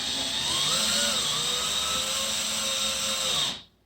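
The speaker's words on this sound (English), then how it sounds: "You hear how the drill changed sound a little bit? That means it reached the bottom." A power drill drives a screw to tighten an in-ceiling speaker mounting bracket, its steady high motor whine running close and loud, pitch shifting slightly partway through, then cutting off abruptly near the end.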